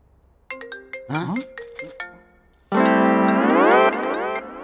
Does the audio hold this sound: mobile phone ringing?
yes